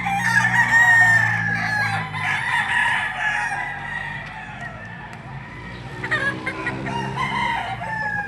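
Roosters crow loudly nearby, one long call followed by others overlapping, with clucking hens in the background.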